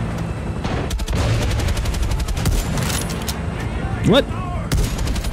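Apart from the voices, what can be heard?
sniper gunfire in a video game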